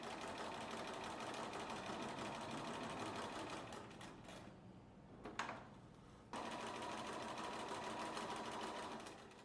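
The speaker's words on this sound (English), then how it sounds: "we're just going to stitch this gap closed on either side" A sewing machine stitches a gap in fabric closed with a fast, steady mechanical whir. The run pauses briefly midway, with a few handling clicks, then resumes at the same even pace.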